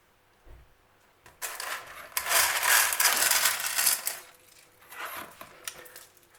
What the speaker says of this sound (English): I'm going to put some lava rock in here.